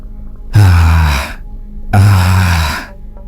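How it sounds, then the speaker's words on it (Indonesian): Two long, heavy breaths close up, each a loud ragged exhale, separated by a short pause. "terdengar suara keras dari dalam lubang, seperti napas berat seseorang yang terengah"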